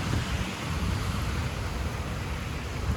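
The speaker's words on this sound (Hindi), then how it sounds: "देखो बारिश क्यों" Steady broadband rain falls outside onto a tarpaulin-covered shelter, making an even, unbroken hiss with no voices over it.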